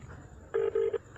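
A phone call to farmer leader Gurnam Singh Charuni rings out unanswered: a steady ringback tone sounds in two long pulses, then a brief third and the start of another, clear and close over a quiet line.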